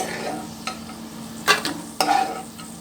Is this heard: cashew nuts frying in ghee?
yes